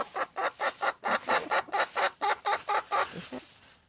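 A flock of chickens on a farm clucks loudly and rapidly close by, a dense run of overlapping squawky clucks in quick rhythm, no talking.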